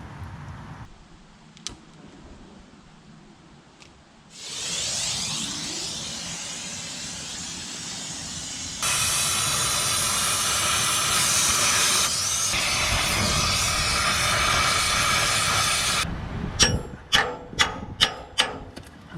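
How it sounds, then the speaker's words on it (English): An oxy-fuel cutting torch roars with a steady loud hiss as it cuts a metal piece off a 1955 Ferguson 35 tractor, preceded by quieter shop clanks and ending in a series of sharp metallic taps. "Now I think I'm going to get the torch and cut that off"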